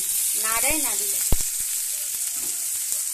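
Chopped tomatoes hit a pan of frying onion, ginger paste and spices with a loud, continuous hissing sizzle, plus a sharp utensil knock and a brief tonal vocal sound near the start.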